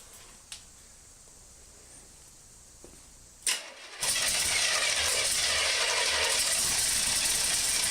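A project car's engine cranks and catches partway through, then settles into a loud, steady running roar for the final several seconds, following a few quiet clicks.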